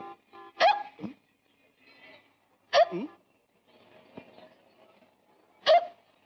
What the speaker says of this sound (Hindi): हिचकी आ गई यार।